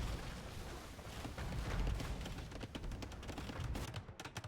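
Cannon galleons bombard a castle in a video game, producing a steady, dense barrage of overlapping booming shots that roll on continuously and loudly with no talk.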